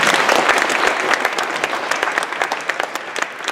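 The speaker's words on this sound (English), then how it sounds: "Give them a round of applause." A school assembly audience applauds, a dense burst of many clapping hands, loud and close, tapering slightly toward the end.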